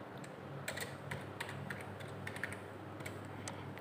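A full name is typed on a computer keyboard: a run of crisp, irregular key clicks at close range over a quiet background hum, with no speech.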